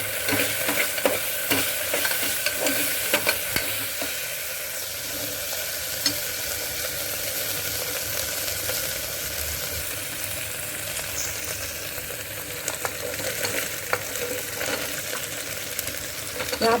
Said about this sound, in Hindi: बीन्स को सॉफ्ट होने तक हम इसे भूनेंगे